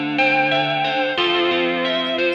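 A looping guitar phrase made in FL Studio 20 without a real guitar, heavily processed with distortion and a wobbling chorus-like modulation, sustained and fairly loud with no voices.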